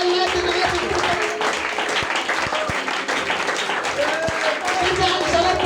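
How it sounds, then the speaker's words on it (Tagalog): A church congregation claps together in a dense, sustained round of applause, mixed with voices and a few sharper individual claps, close and lively throughout. "Yung palakpak na para sa Diyos na hindi ka napipilitan"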